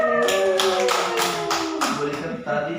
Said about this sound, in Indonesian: Kita tepuk tangan dulu untuk Bu Rika.